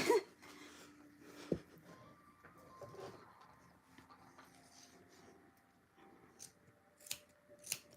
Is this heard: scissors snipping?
yes